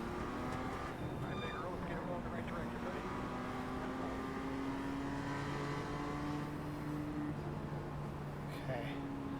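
Race car engines from the iRacing sim drone continuously with shifting pitch as a Miata runs close alongside, the whine rising and falling steadily throughout without a break.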